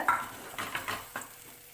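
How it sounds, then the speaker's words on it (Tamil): Garlic tomato chutney sautéing in oil gives a short, quiet burst of stirring, a few soft scrapes and clinks over a faint sizzle, with no voices. "கலந்து விட்டுட்டு கொஞ்ச நேரம் அதிலே வதக்குங்க"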